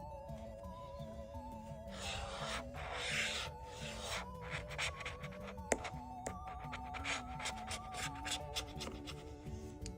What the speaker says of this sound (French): on va continuer de gratter jusqu'au bout